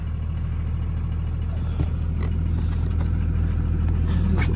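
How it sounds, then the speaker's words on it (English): A truck's diesel engine idles steadily just after a cold start without a plug-in block heater, a low, constant rumble heard up close and loud, with no voices. "just a quick cycle of the grid heater and fired up instantly"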